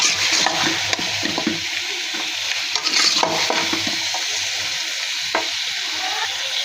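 New potatoes, salted beforehand, being stirred into a pan of frying layer-hen chicken curry, with steady sizzling under repeated scraping stirs of a spoon against the pan, close and fairly loud.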